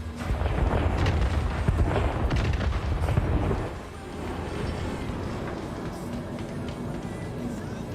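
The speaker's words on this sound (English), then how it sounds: "Explosions." Explosions in the space game Star Citizen rumble heavily for about four seconds as dense booms and blasts, then give way to a quieter sustained rumble with faint background sounds.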